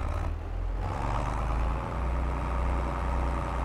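A Swaraj 855 tractor strains to pull a stuck trolley during corn harvesting, its heavy diesel engine droning loud and steady with deep low rumbles and no voices.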